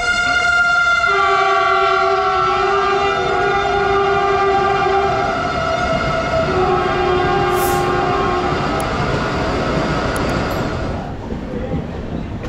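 Lal Kuan–Howrah SF Express (12354) pulling out of Bardhaman station, its loud multi-tone horn sounding almost continuously over rail rumble before cutting off near the end.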